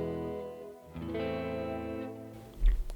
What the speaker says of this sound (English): This would be hall reverb.